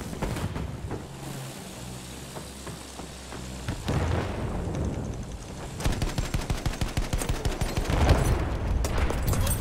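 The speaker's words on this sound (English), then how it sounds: "I shot him with the main gun" Heavy main gun of a vehicle firing in the Battlefield 1 Heligoland Bight battle, booming amid a dense wash of gunfire and rumble, with a rapid run of repeated blasts toward the end.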